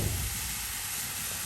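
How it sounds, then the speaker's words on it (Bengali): Tilapia fish fries in hot oil with fried cumin and garlic, a steady close sizzle and hiss with no pauses. "ভেজে নেওয়া জিরা রসুনে মাছগুলো দিয়ে দেওয়া হলো তেলে"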